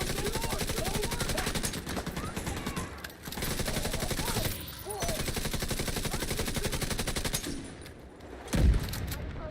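Sustained automatic gunfire in The Division 2 video game, dense rapid bursts running almost nonstop with brief lulls and a heavier thump near the end, loud and close.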